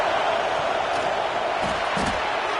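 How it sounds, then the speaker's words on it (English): A packed stadium crowd in College Football 26 roars in a steady, dense wash of noise, loud and constant with a brief swell of cheering near the end. "listen to this crowd noise. This stadium is vibrating."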